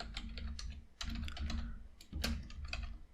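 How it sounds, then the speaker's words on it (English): Code being typed on a computer keyboard, rapid close clicking keystrokes in uneven bursts with short pauses, no voice over it. "we can start typing our code"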